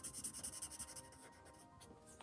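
A pen scratching across paper to cross items off a list, a run of quick rhythmic strokes close by, then a pause and a few lighter marks.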